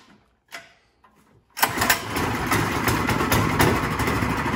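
Predator 212 Honda-clone small engine, already warm, starts after a few faint clicks and pulls, then runs steadily and loudly at a raised throttle with a dense rumbling drone.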